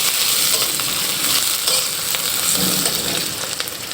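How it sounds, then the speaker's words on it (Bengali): Onions and green chilies fry in a pan with a steady, close crackling sizzle, broken by faint scraping stirs and no voices. "শুধু হচ্ছে পেঁয়াজ আর ঝাল দিয়ে আমরা এই ভাজিটা করব"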